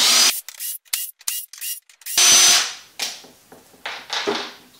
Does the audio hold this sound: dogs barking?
no